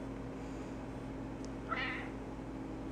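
A grumpy old cat gives a single short meow partway through, heard at moderate distance against a steady indoor room hum.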